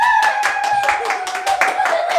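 Hands clap in a quick, steady series of sharp claps, close and fairly loud, over a sustained tonal background.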